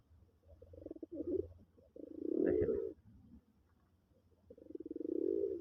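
Soft, low cooing of a red Deshi Raj Golla pigeon in three rolling bursts separated by short pauses, quiet and close, with no talking.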